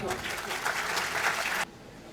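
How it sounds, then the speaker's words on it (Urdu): Audience applause welcoming a professor to the stage at a seminar, a dense burst of many hands clapping for about a second and a half before cutting off abruptly. "آپ سب کی بھرپور تالیوں میں"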